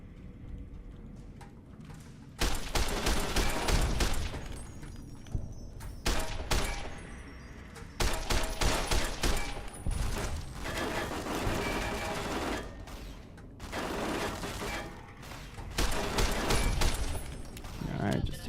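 Turret gunfire in Fallout New Vegas, loud bursts of rapid automatic shooting that come in repeated volleys with short quieter gaps between them.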